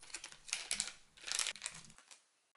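Plastic packaging for a Daiso single tenya fishing lure with a red-gold weight is crinkled and torn open close up. The crackles come in irregular bursts and then stop abruptly, with no talk.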